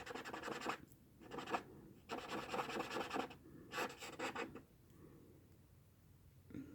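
A marker's broad chisel tip scratches across paper while coloring a birthday card, in several close, dry rubbing strokes broken by short pauses, no talking.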